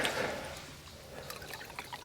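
A thin trickle of water dribbles into a water bag resting on the ground beside a trail in Georgia, a soft, steady, close-up liquid patter with faint splashes and no voices.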